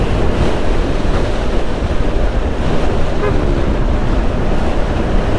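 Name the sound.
strong wind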